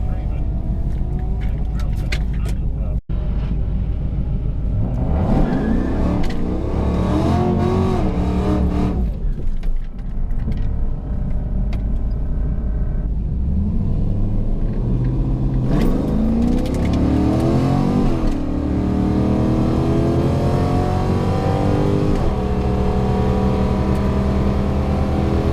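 Car on a quarter-mile drag run after a torque converter change, engine idling, then launching and revving hard through rising gear pulls, loud and close from inside the car, with a voice speaking over it.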